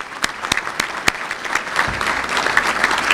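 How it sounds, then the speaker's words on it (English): A crowd applauds the school board at a State of the City event, a brief burst of scattered, fairly loud claps that builds into a fuller round over a few seconds. "Give the school board a round of applause."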